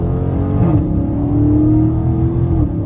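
A widebody Scat Pack car in track mode revs loud and close, its exhaust pitch rising and dipping through downshifts in a sustained throaty roar.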